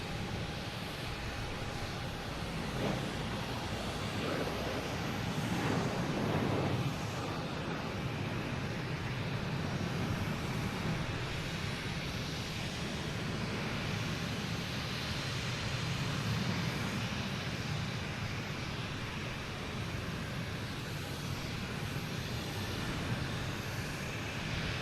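A KLM airliner from Amsterdam at Boston Logan Airport, a steady, broad roar of jet engines that swells slightly midway and holds at a moderate distance, with wind noise throughout.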